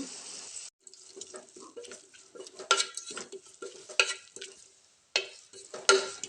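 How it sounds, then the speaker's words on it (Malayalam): Beef being stirred in a pan with tomato, mint leaves and ginger-garlic paste, giving repeated scraping and clinking strokes over a soft sizzle, close and fairly loud with short pauses, no talking. "ഞാൻ നന്നായി ഇളക്കി കൊടുക്കുക കേട്ടോ നന്നായി ഇളക്കി കൊടുക്കുക"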